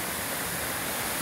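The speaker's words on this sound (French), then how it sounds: "il y a une double cascade ici." Steady, dense roar of rushing water from the double waterfall of Cascade d'Andlau, close and unbroken, with no voices.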